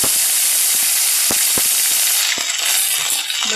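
An onion tomato masala sizzles in hot oil while being sautéed, a loud continuous hiss with scattered sharp ticks and clinks from stirring.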